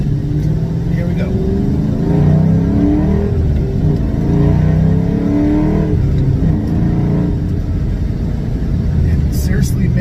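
A 1998 Cobra Mustang's V8 revs through a quick pull, its engine note climbing and dropping in repeated surges under a steady drone of road and cabin noise, loud and close throughout.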